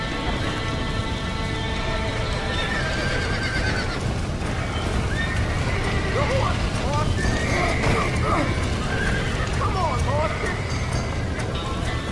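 Horses whinny and neigh repeatedly over a busy, dense background of hoofbeats and clatter, with voices talking throughout, in the video game Red Dead Redemption.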